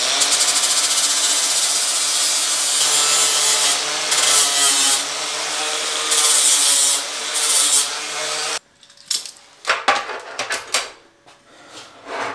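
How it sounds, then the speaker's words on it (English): Angle grinder cleaning mill scale off steel stock for a welded frame, a loud continuous abrasive whine for about eight seconds, then stopping into a few short knocks and scrapes. "grind 20mm either side of it, just so that's all clean for when we jig it up"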